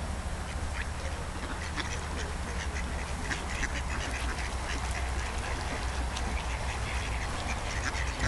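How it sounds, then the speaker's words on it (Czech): A flock of ducks being fed at the spa in Teplice nad Bečvou quacks constantly, many overlapping calls nearby, against steady outdoor noise with no talking. "krmím kachny"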